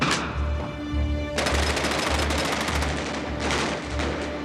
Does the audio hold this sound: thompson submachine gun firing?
yes